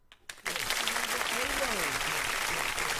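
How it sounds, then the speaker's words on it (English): Applause and cheering for a first-time listener in a radio show studio, a steady wash of sound filling the whole stretch after a brief quiet start, with voices talking over it. "You get another applause"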